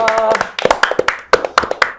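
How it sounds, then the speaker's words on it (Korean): A small studio group claps at the opening of a talk broadcast, a quick patter of sharp, close hand claps that speed up into a scattered burst, with voices mixed in at the start. "박수로 시작하겠습니다."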